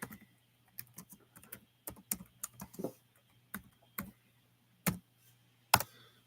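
Someone types on a computer keyboard in irregular bursts of close, crisp key clicks separated by short pauses, over a low steady hum.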